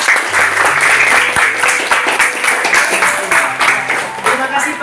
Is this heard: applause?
yes